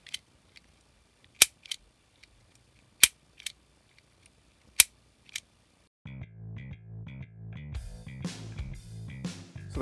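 A 1940s Hubley Texan cap pistol, cast iron with nickel plating, is opened with a handful of sharp, isolated metallic clicks and snaps spaced seconds apart, close and crisp, before music comes in.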